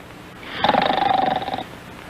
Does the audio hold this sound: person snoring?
yes